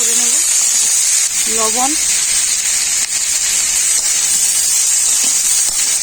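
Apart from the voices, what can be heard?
vegetable peels frying in a kadai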